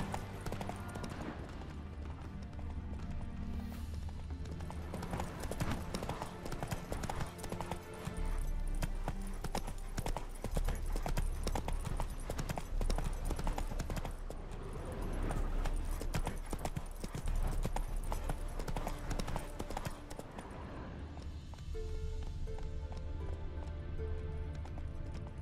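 Roach, a horse in The Witcher 3, gallops with rapid, rhythmic hoofbeats that run close and steady for most of the stretch, mixed with game ambience and a brief voice.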